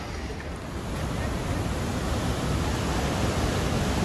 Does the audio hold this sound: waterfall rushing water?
yes